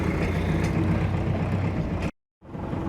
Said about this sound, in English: And the tractor is struggling.